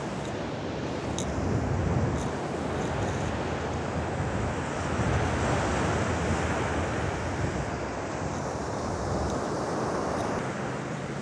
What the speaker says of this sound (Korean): 자, 여러분들 파도 한번 더 구경하십시오